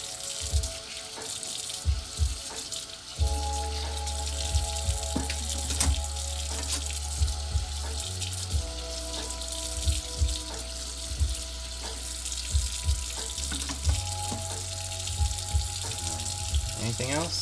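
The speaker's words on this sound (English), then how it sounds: "Running water doesn't usually sound too good on stream" A kitchen sink tap runs steadily while dishes are washed, with water splashing and periodic clinks and thuds of dishware close by; the stream shifts in tone as the flow changes.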